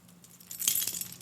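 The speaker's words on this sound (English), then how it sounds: "She hands the keys to Pullman." A bunch of keys jingles and clinks close by in a short burst, bright metallic chinks building to a louder shake, during a live script reading.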